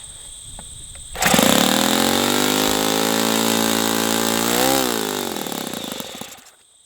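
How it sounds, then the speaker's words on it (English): OS FS-120 Surpass four-stroke model engine spun up by an electric starter on a bench run, a quiet lead-in followed by a loud, steady buzzing drone that rises slightly near the end, then cuts off. "I'm going to use an electric starter."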